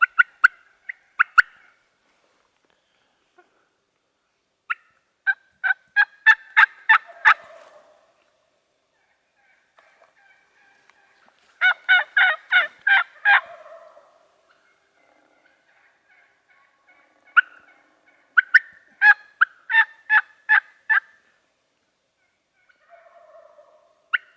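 Wild Merriam's turkey hens calling in New Mexico, with clear close bursts of rapid yelping notes in several separate series, broken by quiet gaps and a few softer clucks.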